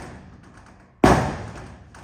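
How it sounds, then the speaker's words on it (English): A single sharp thud lands on a 1965 Chevy pickup door during paintless dent repair, tapping out a forming crease, then decays over a faint room background. "going to have to do some tapping because it's starting to form a deep line"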